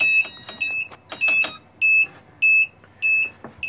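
A beeper alarm on a device being wired up sounds a sequence of sharp, loud electronic beeps close by. Several quick chirps come first, then a run of evenly spaced tones, with no talking.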